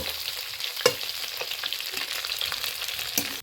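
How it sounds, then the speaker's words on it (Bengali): Tilapia fish frying in oil, an even, moderate sizzle with a few crisp spatula knocks against the pan as pieces are lifted, heard alone without voices. "মাছগুলো ভাজা হয়ে গেছে আমি এখন একটা একটা করে উঠিয়ে নেব"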